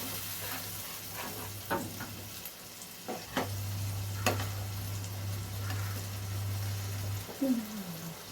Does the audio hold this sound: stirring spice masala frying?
yes